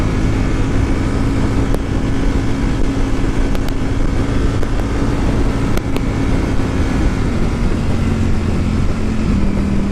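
A Ducati Panigale V4 S motorcycle accelerates hard in sixth gear on the road, its engine a loud continuous roar mixed with heavy wind rush, steady and close throughout.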